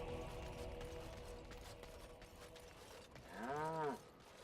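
Cattle in Dragon Age Origins give one short, mid-distance moo near the end over a faint game ambience with soft mechanical clicking.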